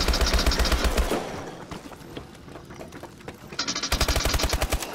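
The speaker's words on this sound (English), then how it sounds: "It's still a machine gun, which is fair." Hydra 3 machine gun in Call of Duty: Advanced Warfare Exo Zombies rattling off fast full-auto bursts, a loud stuttering burst at the start, a quieter lull, then another rapid burst near the end.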